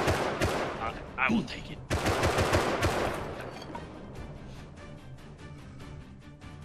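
Gunfire from a firefight in the survival game Rust, a burst of sharp shots early on followed by a denser stretch of shooting that trails off into scattered, fainter reports, with someone speaking briefly over it.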